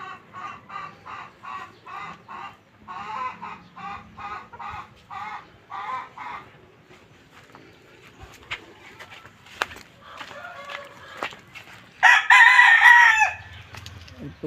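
Street-breed gamefowl chickens cluck in a steady series of short, moderately loud calls, then a single louder, bright rooster crow rings out near the end, with faint background noise between.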